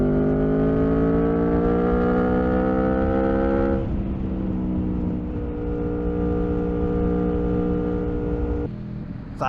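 A 2021 Aprilia Tuono 1100 Factory V4 motorcycle accelerates hard, its engine note climbing steadily through the gears with sharp shift drops, loud and close throughout.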